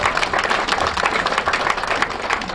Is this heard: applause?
yes